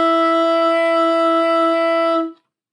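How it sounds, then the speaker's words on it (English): A single sustained, buzzy reed tone from a tenor saxophone mouthpiece and neck played without the body, loud and steady for about two seconds before cutting off abruptly. "just blow into the mouthpiece and reed, and through the neck only you'll get a strange sound"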